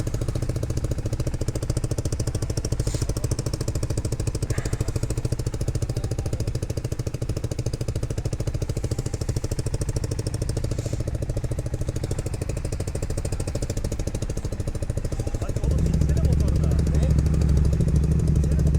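A motorcycle with an Akrapovič exhaust runs at a steady idle with a throbbing rumble, then swells louder near the end as it revs; people talk over it.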